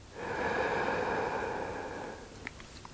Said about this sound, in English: So keep breathing along with me.